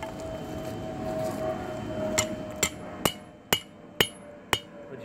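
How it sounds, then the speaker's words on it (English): A hammer strikes the red-hot glass-tipped end of forge-heated steel, six sharp metallic blows spaced about half a second apart, loud and close, following a stretch of steady background roar from the forge. "Pick the wobbliest hammer that you had."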